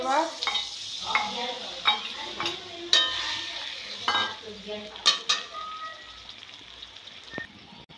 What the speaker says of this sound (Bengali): এবার আমি মশলাটা দিয়ে দেবো।